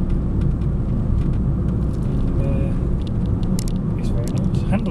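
Suzuki Swift converted to run on LPG, with new brake discs and low profile alloy wheels and tyres, driving on a road: a steady low engine and road rumble heard from inside the cabin under someone talking throughout.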